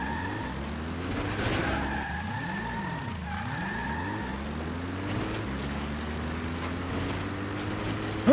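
Car engine in the video game Metal Gear Solid V: The Phantom Pain, droning with its pitch sweeping up and down as it accelerates and slows, steady and fairly quiet, with no talking.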